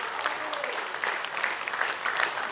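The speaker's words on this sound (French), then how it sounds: "Je crois qu'on peut applaudir vraiment Valérie parce que ça nous donne de l'espoir" Applause from an audience at a political debate at the Fête de l'Humanité: dense, steady clapping from a crowd, moderately loud and continuous throughout.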